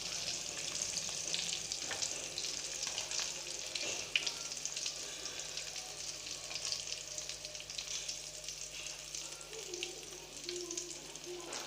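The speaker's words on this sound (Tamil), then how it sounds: "நம்மளோட நகெட்ஸ் எல்லாம் நல்லா கோல்டன் ஃப்ரை ஆகிடுச்சு" Potato nuggets deep frying in hot oil, a steady dense sizzle and crackle that stays loud and even throughout with no talk over it.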